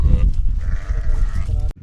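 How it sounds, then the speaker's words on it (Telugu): A sheep in the Kuwait desert gives a drawn-out bleat among other livestock, fairly close, over low rumbling background noise. "పిల్ల గొర్రె బా అని తల్లి వచ్చాను"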